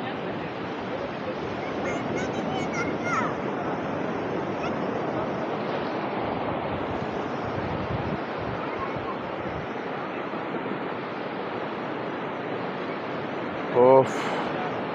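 Sea waves wash onto the beach at Puri in the early morning, a continuous broad roar of surf with wind, close and steady throughout, with a brief sharper sound near the end.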